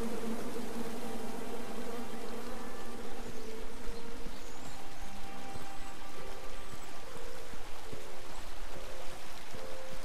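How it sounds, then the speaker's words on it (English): Angry bees buzz steadily throughout a tree scene in King's Quest: A Knight to Remember, a dense continuous insect drone with a faint trickle like running water beneath it, and nobody speaking. "Come at me, bees!"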